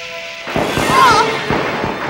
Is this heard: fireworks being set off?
yes